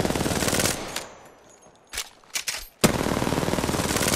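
Rapid automatic gunfire in a shooter video game bursts loudly in the foreground, drops to near silence with a few scattered shots, then the sustained firing resumes.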